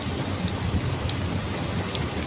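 Heavy rain pours steadily outdoors, a dense continuous hiss and patter at constant loudness with no voices, the downpour close and unbroken throughout.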